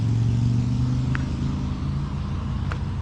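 Steady rumble of car traffic passing on a road, a constant loud engine and tire drone throughout.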